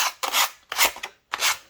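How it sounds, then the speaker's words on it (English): A hand sanding block rubs across a painted wooden fall décor piece in three steady rasping strokes, each about half a second long, close and fairly loud with short pauses between them. "I have this sanding block, and I'm just going to sand"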